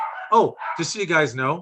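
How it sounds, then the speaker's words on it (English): Dogs barking and yipping at home in the background, a few sharp barks mixed under a person talking close by. "You probably can hear the dogs in the background."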